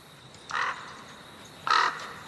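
Two harsh, crow-like caws sound from overhead, about a second apart, from a flock of exotic birds above palace grounds, moderately loud over a faint background hiss.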